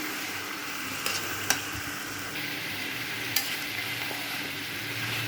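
Rooster chicken curry is stirred in a pan over medium heat, giving a steady soft sizzle with a few brief scraping clinks of the spoon against the pan.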